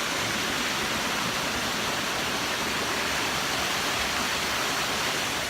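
A waterfall in the New Zealand bush pours with a steady, dense hiss and roar, constant and unbroken throughout with no other sounds standing out.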